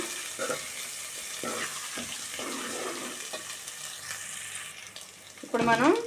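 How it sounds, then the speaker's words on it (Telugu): Ginger-garlic paste frying in a pan for a drumstick chicken curry, a soft continuous sizzle with occasional spoon scrapes and a brief clatter near the end, close by and fairly quiet. "అల్లం చిల్లిపాయ పేస్ట్లో ఉన్న పచ్చివాసన అంతా పోవాలి అప్పటి వరకు కొంచెం వేయించుకుందాం"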